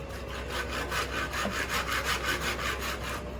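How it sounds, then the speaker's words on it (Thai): A hand saw cuts through wood in a steady back-and-forth rhythm, about a dozen even strokes, close and moderately loud. "น้องเมฆก็จะเลื่อยพื้นไว้ให้ไม่เถาอีกนะพี่น้อง"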